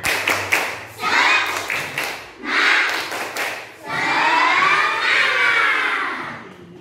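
Schoolchildren in a classroom perform the tepuk semangat chant, clapping in quick, rhythmic bursts while chanting together in loud, close voices, with brief pauses between the clapped phrases.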